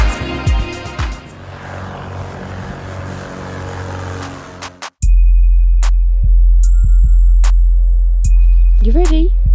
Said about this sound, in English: It's 620 metres and we're doing a short field takeoff.